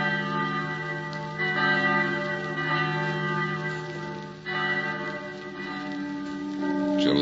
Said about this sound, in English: And everywhere, by the ringing of bells,